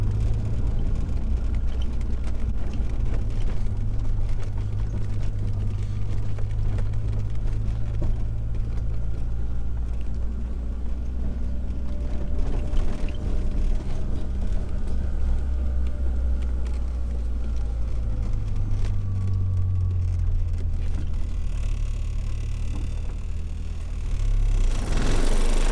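A Mitsubishi Eclipse GSX cruising on a rain-soaked road with puddles, its engine droning low and steady under a continuous hiss of tires on wet pavement, no talk.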